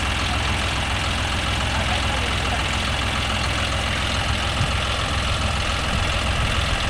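A John Deere 5405 CRDI 4WD tractor runs nearby at a field harvesting black rice, a steady loud diesel drone with constant broadband rumble and no break throughout.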